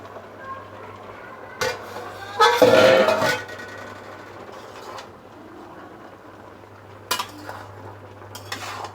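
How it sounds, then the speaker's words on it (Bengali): Metal lid lifted off a cooking pot of pachan, a Bengali vegetable dish: a short clank, then a loud clattering scrape, followed by quieter simmering and a couple of later light metallic taps. "তো এখন এটা ঢাকনাটা তুলে দেখছি কী পজিশনে আছে।"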